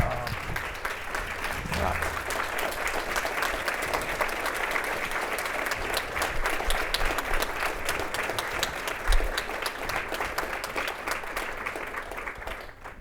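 Audience applause for the adult panelists at an awards and fundraising event, a dense, steady wash of many hands clapping that holds at an even level for the full stretch without fading.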